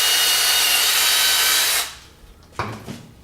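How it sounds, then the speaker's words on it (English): Power drill boring pilot holes into the end of a wooden piece, a steady loud whir that stops, followed by a few short scraping, rattling handling sounds, no speech. "Now I'm going to drill pilot holes in the end."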